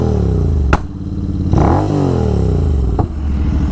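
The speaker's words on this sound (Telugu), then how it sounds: "అండ్ ఈ బైక్ ఎగ్జాస్ట్ నోట్, ఆ బైక్ ఎగ్జాస్ట్ నోట్ కూడా చూపిస్తాను." A tuned Royal Enfield GT 650 with an SS Motocraft full-system exhaust idles with a loud, deep, pulsing thump. It rises through a brief rev and falls back, with a couple of sharp cracks, very close and without speech.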